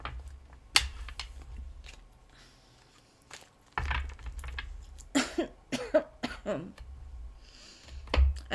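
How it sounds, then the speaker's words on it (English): A cough from someone fighting a cold, with an irritated, itchy, sore throat: several short, harsh bursts scattered through the clip, fairly close, between quieter stretches of room noise. "It's one of those irritating coughs too that's like itchy throat, sore throat."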